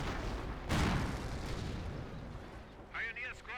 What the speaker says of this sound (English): I hear mortar tubes.